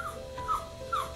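A dog whimpers softly in short, high whines, two or three plaintive cries close by with faint background noise.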